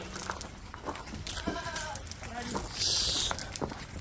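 Dorper ewes being weaned bleat several times on a farm, the calls moderately near and mixed with other livestock noise and some talking.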